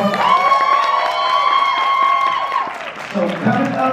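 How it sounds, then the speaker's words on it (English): A crowd at a university homecoming event claps and cheers loudly with sustained shouts and whoops, steady and dense throughout with a brief dip near the end. "can I get a round of applause?"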